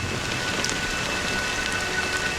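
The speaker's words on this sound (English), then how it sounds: "it's still raining." Steady rainfall in the video game Honkai: Star Rail, a dense, even hiss of drops on surfaces, loud and unbroken, with no voices.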